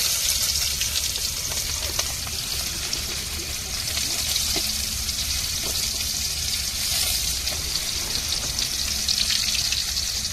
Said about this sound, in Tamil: இது இப்போ கடுகு சேர்த்துக்கிடுவோம் கடுகு சேர்த்துக்கிறேன்